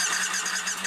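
Harley-Davidson motorcycle engine starting, a brief close mechanical whir and buzzing crank with a steady low hum underneath.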